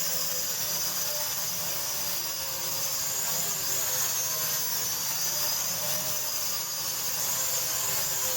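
A DEERC D10 toy drone flies with a steady, high-pitched buzzing whine from its small propellers, constant and fairly close, with no talking over it.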